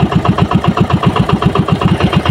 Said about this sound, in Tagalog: Hinahan na yung makina.